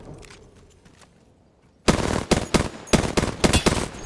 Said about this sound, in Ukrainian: Хто стріляє в мене?